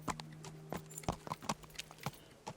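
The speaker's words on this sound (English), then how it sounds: "Elena, you're quite a pretty horse" Rhythmic clip-clop of horse hooves on a hard surface in the video game Kingdom Come: Deliverance, clear and close, with a faint steady tone underneath.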